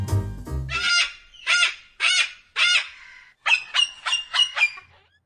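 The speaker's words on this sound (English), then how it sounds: "What kind of bird? A falcon." A falcon gives harsh, honking cries, four spaced calls and then a faster run of five, loud and close, after a short low rumble at the start.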